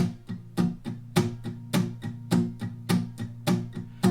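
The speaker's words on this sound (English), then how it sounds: "For about half the song, you guys are going to use what's called a palm mute" Palm-muted acoustic guitar strumming in a chunky country rhythm: short, damped, percussive strokes in a steady pattern of about a dozen hits, close and dry.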